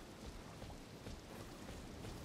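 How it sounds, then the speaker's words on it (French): Steady rain falls in the Elden Ring video game, a soft, continuous broadband hiss of drops with no pauses, heard alone and fairly quiet. "il pleut, il fait dégueulasse"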